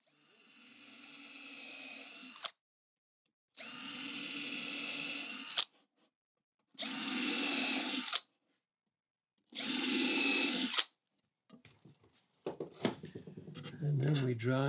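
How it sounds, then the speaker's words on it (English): Drill driver boring holes in wood, four separate whining bursts of a couple of seconds each with short pauses between, followed by clattering handling noise at the end. "we just simply drill these holes"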